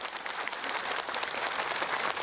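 Audience applause fills the air at a literary award ceremony in a rural village, a steady, dense wash of clapping from a crowd throughout, with no voices rising above it.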